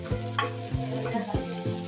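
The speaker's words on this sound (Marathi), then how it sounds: "तवा ठेवला तव्यावरती बटर टाकलं त्याच्यानंतर थोडी पावभाजी केलेली आहे ती भाजी परत टाकली" Pav bhaji vegetables sizzle in butter on a hot griddle, a steady close frying hiss broken by rhythmic scraping and stirring strokes of a spatula, with no talking.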